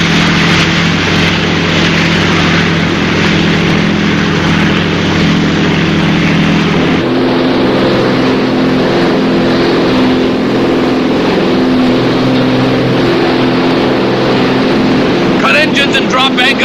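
Boat engines droning steadily at sea in a 1958 adventure drama, a loud continuous motor hum whose pitch and tone shift partway through, with a brief burst of other noise near the end.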